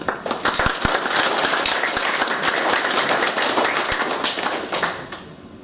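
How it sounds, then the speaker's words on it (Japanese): Members at a Japanese general meeting clap to approve the agenda items. Sharp individual claps begin the sound, then fill into a steady round of applause that fades out near the end. "拍手をお願いいたします"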